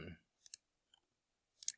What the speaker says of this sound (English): We double click it there.